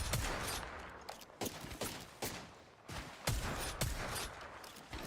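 Gunfire rings out in an Apex Legends match, with sharp shots and rapid bursts crackling in clusters over a dense, continuous background of game noise.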